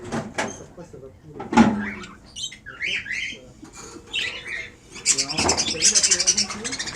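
Parrots squawk and chatter outdoors in the sun in Tahiti, loud harsh calls and raspy bursts overlapping repeatedly, with a person speaking French in between.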